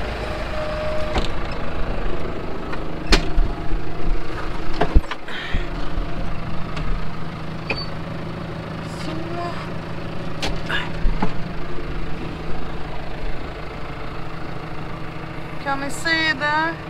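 Diesel engine of a Valmet 865 tractor pulling a New Holland 935 hay baler, a steady running drone throughout with faint clicks and rattles, and a voice briefly talking over it.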